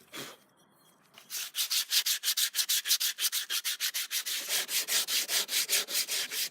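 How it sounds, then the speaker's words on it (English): Rhythmic back-and-forth scraping of coarse sandpaper on wood, a quick steady series of rasping strokes after a short pause at the start. "When I'd finished all the coarse sanding"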